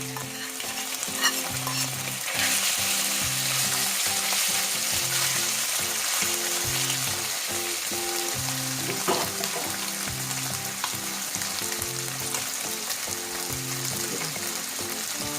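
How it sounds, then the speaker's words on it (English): Chicken sizzles and fries steadily in a frying pan, a dense, continuous crackle with occasional louder pops, no voices over it. "start by just going ahead and putting all the chicken into the"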